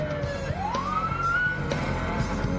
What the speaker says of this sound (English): red lights and sirens mean pull to the right